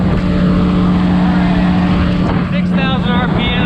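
Loud, steady high-revving drone of a Tohatsu 30hp outboard motor held at 6,000 RPM on a Gheenoe LT25 boat, with wind and water rush throughout.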